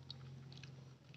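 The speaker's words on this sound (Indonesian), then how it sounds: "teksturnya renyah, jadi butuh digigit" Crunchy butter-coconut Kokola biscuit being bitten and chewed, producing faint crisp crunches over a low steady hum, with no talking.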